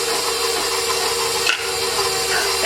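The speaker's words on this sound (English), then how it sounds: "I'm just going to whisk this up just for a second, just to get everything combined." A whisk stirs the dry ingredients for carrot cake in a bowl, making a continuous, close, brisk scraping and rubbing sound with one brief dip midway.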